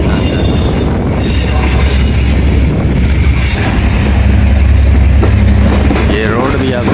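Passenger train running on the track near Rohri, Sukkur, a loud, close rumble of rolling wagons with squealing wheels and metallic rattle throughout, a voice talking over it.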